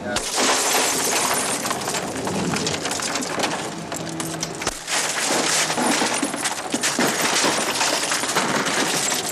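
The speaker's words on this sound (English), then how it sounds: "Breaking glass." Glass is broken during a vehicle rescue exercise with a crew freeing a practice victim, producing loud crunching and shattering over continuous noisy activity, with a brief pause midway.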